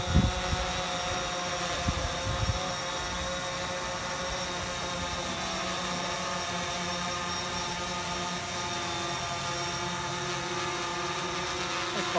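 A drone flying at an outdoor meetup in Silicon Valley, a steady buzzing whine of rotors that holds constant throughout at moderate loudness, with a few faint knocks at the start.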